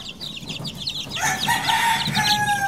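Chicks and chickens on a poultry farm give busy overlapping peeps and clucks, close and fairly loud, over a low background of farm noise.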